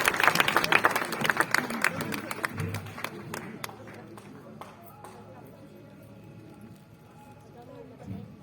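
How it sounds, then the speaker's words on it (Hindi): An audience at a Hindi kavi sammelan claps vigorously, loud and dense at first, then thinning into scattered separate claps before fading out. "जोरदार तालियों के साथ बिटिया शर्मी।"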